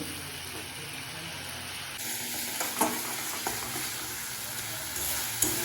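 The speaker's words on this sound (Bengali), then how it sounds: "মশলাটার মধ্যে যতক্ষণ না তেল ছাড়ছে ততক্ষণ আমরা মশলাটা ভালো করে কষিয়ে নেব" A spice paste for chickpea fritters sautés in oil in a pan, giving a steady soft sizzle with a few stirring scrapes and clicks, close and moderately quiet, with no talking.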